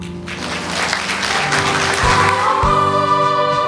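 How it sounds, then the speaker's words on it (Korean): Applause for teachers at a church school Teacher's Day service: a dense, steady wash of many hands clapping that fills the whole stretch, with music playing underneath. "박수 한번 쳐드리겠습니다"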